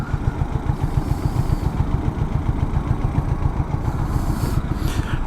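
Royal Enfield Himalayan 400 twin-cylinder motorcycle engine idling nearby, a steady low rhythmic thrum with even pulses, running alone without voices.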